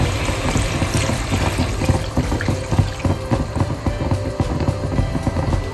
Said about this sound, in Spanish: a este punto que hemos sellado la carne, la vamos a cubrir con agua